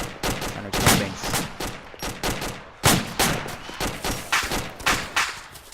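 Gunfire rattles at the player in the space game DAC, a string of sharp, rapid shots and thuds arriving in irregular bursts, moderately loud with no voices over it.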